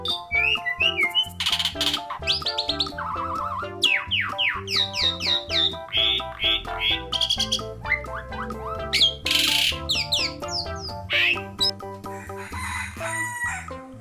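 A myna bird gives a string of sharp, varied whistles and chattering calls, close and clear, repeated in quick bursts over a steady musical backing.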